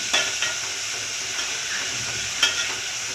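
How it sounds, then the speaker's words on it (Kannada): Onion, tomato and field beans fry in a pan with a steady hissing sizzle, with a few stirring scrapes breaking through at intervals and no talk. "ಈರುಳ್ಳಿ ಟೊಮೊಟೊ ಅವರೆಕಾಳು ಫ್ರೈ ಮಾಡ್ತಾಯಿದ್ದೀನಿ."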